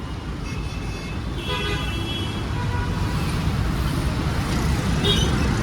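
Busy road traffic surrounds the listener with a dense, steady rumble of cars, buses and trucks. Car horns toot repeatedly over the constant engine noise.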